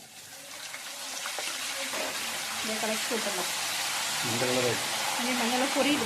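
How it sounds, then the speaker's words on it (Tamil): Hot oil sizzles and crackles steadily as turmeric water hits the pan, with a voice talking over the hiss throughout. "மஞ்சள் தண்ணி ஊற்றினோன்னே சுட சுடன்னு சத்தம் வரும்"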